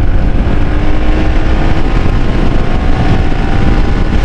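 A Hero Xpulse motorcycle engine runs loud and close, its steady roar rising as the bike pulls through the gears, with heavy wind buffeting mixed in throughout.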